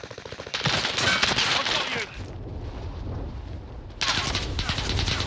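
Call of Duty Warzone gunfire, bursts of rapid automatic shots that stop briefly before another close, loud volley starts, with a low rumble in the pause and voices faint beneath.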